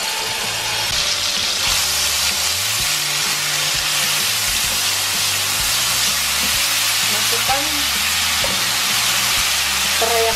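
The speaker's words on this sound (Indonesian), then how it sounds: "Saya tuang minyak canola, kita tinggal cemplungin bumbunya." Spice paste fries in canola oil in a pan, a loud, dense sizzle crackling steadily and close up for the whole stretch, with faint low tones humming underneath.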